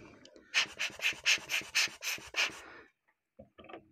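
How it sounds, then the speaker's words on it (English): Rubber dust blower puffs air over watch parts during an Accurist Skymaster crystal replacement, about nine quick, breathy squeezes in a steady rhythm, close and clear, then a pause and two softer puffs. "Again, use a dust blower."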